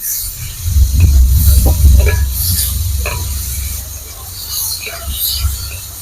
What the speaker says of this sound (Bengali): আমটা একটু ভেজে নিয়ে